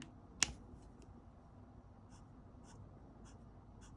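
A single sharp plastic click near the start as a Copic Sketch marker's brush tip snaps into place, close and crisp, followed by quiet room hiss and a few faint light taps.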